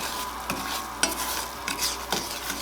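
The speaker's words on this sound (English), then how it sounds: "So we're going to stir that in and let that burn off for about a minute." A spoon stirs a bourbon glaze in a pan as the alcohol cooks off, with soft sizzling under a run of distinct scraping strokes about every half second.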